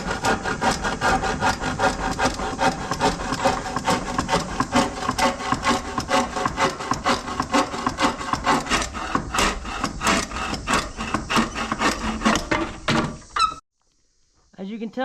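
Plywood boards being sawn in half for a brooder box build, a steady rhythmic back-and-forth cutting that runs loud and close for about thirteen seconds before stopping abruptly.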